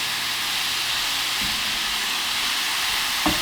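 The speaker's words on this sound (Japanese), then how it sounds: "蓋をして蒸し焼きにしていきます。" Vegetables steam-fry without oil in a covered pan, giving a continuous soft hiss of steam and gentle sizzle. It is steady and moderately loud with two brief knocks and no voices.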